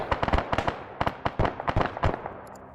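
Mortar fire in the Arma 3 military game: a rapid string of about a dozen sharp, loud explosive cracks and thumps, irregularly spaced, followed by a fading tail.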